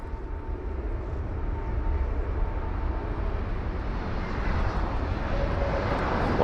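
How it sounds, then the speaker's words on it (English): Middle East Airlines Airbus A321neo arriving from Beirut and landing at London Heathrow, a steady, continuous jet engine roar with broadband rumble heard from a distance, holding level throughout. "What a smooth landing."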